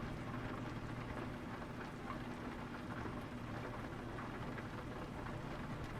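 Steady, even rain pours down in Euro Truck Simulator 2 in the dark early morning, a dense continuous hiss with a low rumble underneath and no talking.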